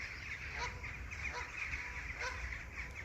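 A flock of geese calling near a carp fishing lake at Wraysbury, with intermittent honks rising over a steady murmur of outdoor noise, moderately distant and without speech.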